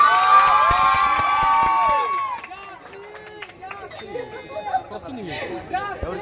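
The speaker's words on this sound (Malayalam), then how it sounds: "കൈയടിക്കോ എല്ലാവരും ഒന്ന്." A crowd at a live gathering claps and cheers, with scattered whoops and excited chatter after a few seconds of fading tonal music.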